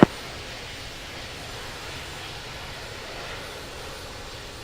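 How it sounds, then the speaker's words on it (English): A commercial airliner taxis to the runway in the Infinite Flight game, a steady, even engine roar that holds at a constant level, broadband and moderately loud, with no talk over it. "Taxiing to runway 4 left"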